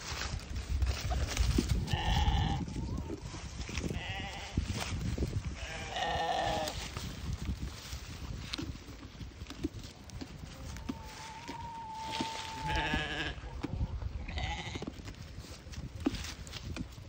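Sheep and goats eating pumpkin bleat several times in bursts over a continuous rustle of chewing and movement, with a rough hiss of outdoor noise throughout.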